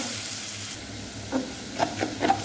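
Garlic and onion fry in hot oil in a pan with a soft, steady sizzle, broken late in the stretch by a few close, brief stirring clicks.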